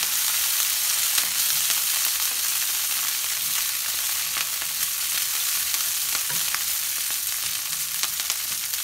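Green cabbage frying in a pan, a loud, continuous sizzle and crackle that holds steady throughout, close by with occasional small pops and no talking.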